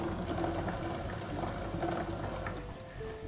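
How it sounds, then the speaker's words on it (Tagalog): Adobo pork baby back ribs simmer in a vinegar sauce, a steady soft bubbling and sizzling that continues quietly and evenly throughout with no talk. "Kaya kailangan po hayaan nyo pong kumulo ng kumulo."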